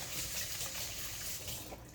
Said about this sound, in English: I'm going to run it under the water